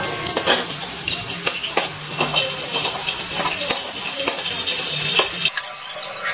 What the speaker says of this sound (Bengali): বেগুনগুলো খুব ভালো করে ভেজে নিয়েছি, এবার তেল থেকে তুলে নিচ্ছি বেগুনগুলো।